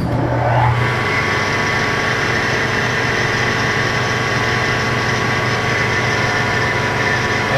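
An SCMI Formula T1 shaper spindle motor starts up and settles into a loud, steady running hum with a constant whine, close by and without talk.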